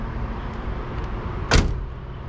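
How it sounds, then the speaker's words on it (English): A car door on a 1970 Oldsmobile Cutlass SX shuts once with a solid, close thump about two-thirds of the way through, over a quiet background hum. "Doors closed very nicely."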